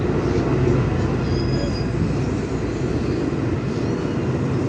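KRL commuter train arriving at Tanjung Barat station, a loud continuous low rumble and rolling rail noise heard from on board, with a faint high tone drifting briefly in the middle and no talk.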